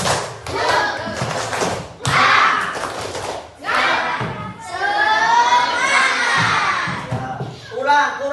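Classroom of fifth-grade schoolchildren performing a rhythmic spirit clap chant, bursts of clapping and shouted chanting in loud, patterned phrases with short pauses between.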